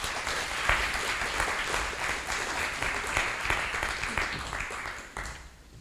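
An audience at a lecture event applauds a guest speaker with sustained, dense clapping from a crowd that holds steady for about five seconds and then fades out.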